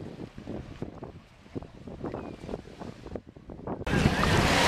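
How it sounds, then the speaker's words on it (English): Gentle ocean waves wash onto the shallow, clear water at Clearwater Beach, Florida, a steady soft surf with wind noise, rising to a fuller, louder rush near the end. "And look at the gentle waves and the shallow,"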